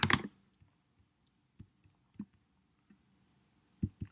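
A few sparse clicks of keys on a computer keyboard, close and quiet, with irregular gaps between the taps.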